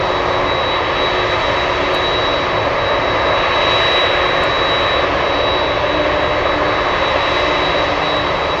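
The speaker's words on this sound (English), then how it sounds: "MD-11 going into the clouds" MD-11 jet airliner climbing into the clouds after takeoff from Anchorage airport, a loud continuous engine roar that swells slightly in the middle and holds steady throughout, with no talking.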